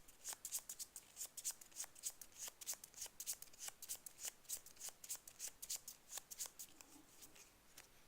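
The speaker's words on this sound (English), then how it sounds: "We shuffle these guys, randomly choose one to put into play," A deck of game cards for a Scarlet Keys campaign card game is shuffled, giving a quiet, rapid run of crisp flicking clicks in an even rhythm throughout, close up and with no talking.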